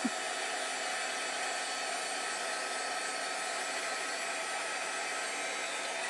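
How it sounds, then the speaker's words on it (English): A heat gun blows a constant, loud, steady hiss of hot air close by as it dries Mod Podge on a Christmas tree, unbroken for the whole stretch with no voices. "I am going to take a heat gun to it, and hopefully that will work a little bit."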